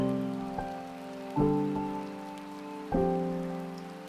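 An ambient rain sample layered into a lo-fi beat: a soft, steady hiss of rainfall under sustained electric-piano chords that strike three times, gentle and mellow, with no voices.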